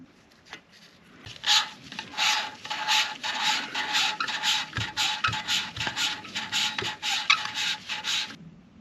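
Hand lapping a valve on a 1939 Caterpillar D4 pony motor, a rapid back-and-forth gritty rasping grind that starts after a few light taps and runs steadily and close until stopping.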